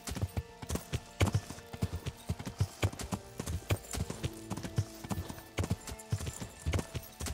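Rhythmic clip-clop of horse hooves trotting steadily in the video game Kingdom Come: Deliverance, close and fairly loud, with a faint snort or whinny and no talking.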